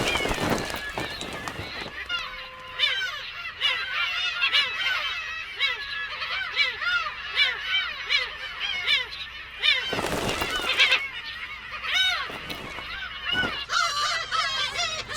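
A chorus of harsh, repeated black-tailed gull calls squawks close by in a crowded nesting colony while a voice talks over the cries.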